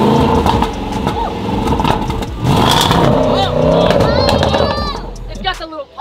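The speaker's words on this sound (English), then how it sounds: "Yeah, give us a rev, give us a rev." A right-hand-drive Range Rover engine revs loudly and continuously close by, with a few small exhaust pops, while excited voices chatter and a crowd murmurs over it.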